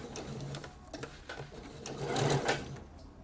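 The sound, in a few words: sewing machine sewing in a blouse sleeve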